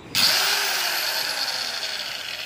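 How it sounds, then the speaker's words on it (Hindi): A 125mm (5-inch) marble cutter starts up and runs free, a loud, steady high-pitched motor whine with a sharp onset that holds evenly at close range, no speech over it. "मशीन चलाता हूँ आपको आवाज़ सुनाता हूँ इसका।"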